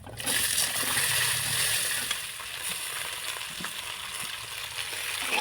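Vegetables hitting hot oil seasoned with panch phoron in a kadai, giving a steady loud sizzle and frying hiss with some splattering throughout, close up and without speech.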